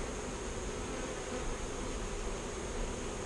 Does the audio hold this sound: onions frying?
no